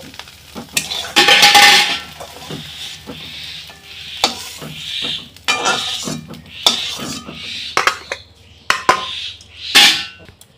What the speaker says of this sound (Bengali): আমার ডিমটা ভুজিয়া করে ভেজে নেওয়া হয়ে গিয়েছে। এবার আমি তুলে নেব।